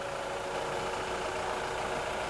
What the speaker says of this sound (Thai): ตอนนี้สตาร์ทรถเรียบร้อยนะครับฟังเสียงเครื่องยนต์กันไปแล้ว